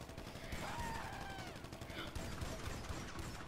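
Dense, rapid gunfire from a GTA 5 survival match, overlapping shots and bursts crowding the whole stretch at steady loudness, with a voice faintly mixed in among the game sounds.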